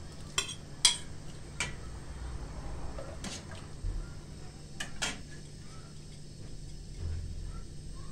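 Chicken meat goes into a pot of soup and gets stirred, giving a few sharp metallic clinks of a utensil against the pot and soft scraping over a low background hum, with no talking.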